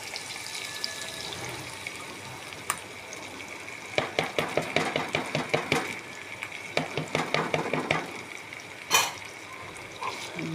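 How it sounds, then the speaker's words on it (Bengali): Fish roe and grated potato are stirred in a frying pan, with quiet scraping taps of a utensil against the pan in quick bursts over a low sizzle. "ডিমগুলো এখন নাড়াচাড়া করবো, ভালো করে নাড়াচাড়া করবে"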